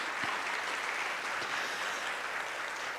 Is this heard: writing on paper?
no